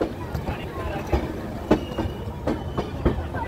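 The 11007 Deccan Express rolls along monsoon tracks, a steady rumbling wash broken by sharp periodic wheel clacks over rail joints, fairly close and continuous.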